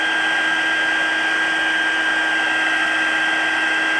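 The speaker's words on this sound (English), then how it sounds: "You want to keep your fingers out of the way because the heat from the heat tool is very intense." A handheld embossing heat tool blows steadily over embossing powder for a diamond dust technique on stamped cardstock, giving a constant close whir with a faint high whine and no talking.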